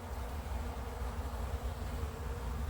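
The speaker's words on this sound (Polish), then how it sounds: "pszczoły latają, oblot jest" A low, steady buzzing hum of many honeybees flying around their hive, continuous and fairly close, with no voices.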